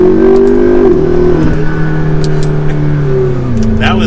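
A tuned McLaren MP4-12C accelerating at half throttle, a loud steady engine drone with rising and shifting tones as gears change, heard from inside the car, with a voice speaking briefly.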